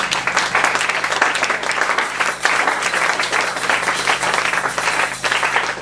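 A church congregation breaks into loud, sustained applause in acclaim of the Lord, steady dense clapping filling the room throughout with a faint voice underneath.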